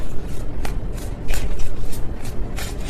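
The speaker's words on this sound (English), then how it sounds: "That was a sloppy shuffle." Tarot cards being shuffled by hand, a quick run of close, crisp riffling bursts and soft slaps, fairly loud and without talk.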